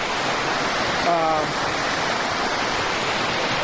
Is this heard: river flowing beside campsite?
yes